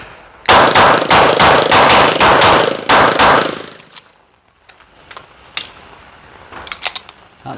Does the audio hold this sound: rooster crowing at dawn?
no